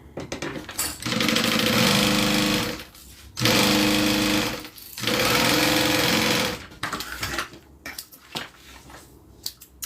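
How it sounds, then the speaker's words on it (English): A sewing machine stitches the bottom seam of a zippered bag in three steady whirring runs, each a few seconds long, loud and close, separated by brief pauses and handling clicks. "Alright, sew the bottom on."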